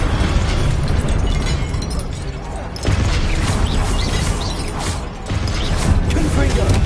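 Repeated Confringo fire-spell explosions in the Hogwarts Legacy video game, a dense roaring wash of blasts and crackling bursts that continues throughout, loud and close.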